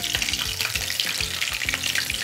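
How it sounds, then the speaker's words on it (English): Chicken taquitos fry in hot oil, giving a dense, loud sizzle with steady crackling and spitting bubbles and no talking. "just make sure that your oil is not too hot, so then it's not popping on you and popping everywhere"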